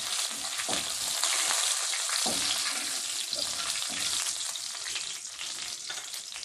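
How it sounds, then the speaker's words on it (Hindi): Cumin seeds crackling in hot oil, a loud dense continuous sizzle with bursts of spitting, close up and steady throughout. "और जीरा डाल देंगे। इसको थोड़ा सा फ्राई करेंगे।"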